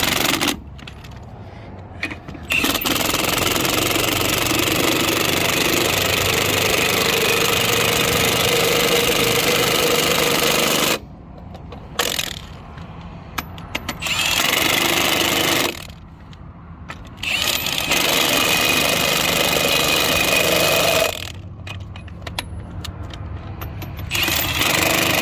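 An impact wrench on a low torque setting drives lug nuts onto the wheel of a Forest River Sunseeker RV, running in several long loud buzzing stretches broken by short quiet pauses.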